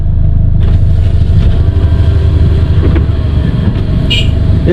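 A Nissan Sentra B14 engine idles at about 1200 RPM, a steady loud low rumble that holds evenly throughout with no voices over it.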